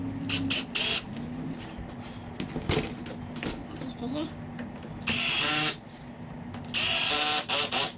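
Screws being driven into the seat cover of a 1971 Super Beetle, short bursts of a whirring power driver loud and close, separated by quieter handling noises.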